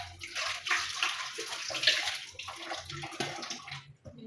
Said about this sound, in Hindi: अब हम ये जो गंदा पानी है जिसमें हमने आलू रखी थी, हम इसको फेंक देंगे